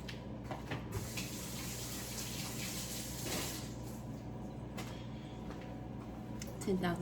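A kitchen tap runs while hands are washed, a faint steady stream of water with occasional clatter and talking in the background.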